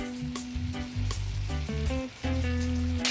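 Beef steaks fry well-done in an open pan, giving a steady, close sizzle and crackle that runs without a break, with no voices.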